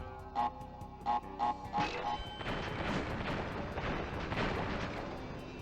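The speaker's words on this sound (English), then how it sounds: "You do have to wait for that TNT to explode before you can go." A TNT crate explodes in the Crash Bandicoot video game: a few short, bright game blips give way to a loud, sustained crashing burst of noise that fills the rest of the moment.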